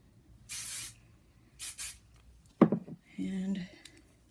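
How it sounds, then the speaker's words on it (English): Hairspray hisses from an aerosol can onto hair in two short, sharp bursts, with a voice and some handling noise following. "Spray a little bit more."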